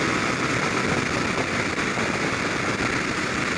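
A Honda CBR 125cc motorcycle engine held at about 8,500 revs at 70, a steady, loud, buzzing whine mixed with wind rush, constant throughout with no voices.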